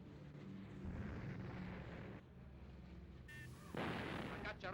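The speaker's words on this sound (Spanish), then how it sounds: "Las baterías antiaéreas entran inmediatamente en acción." Rapid bursts of heavy anti-aircraft gunfire pound in the distance during the Spanish Civil War, mixed with booming blasts and a rumbling roar, faint and dense with no clear pauses.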